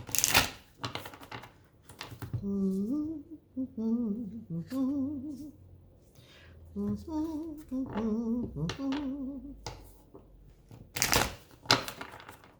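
Tarot-style cards shuffled by hand in rustling, riffling bursts at the start and near the end, with a soft tonal voice-like hum in between.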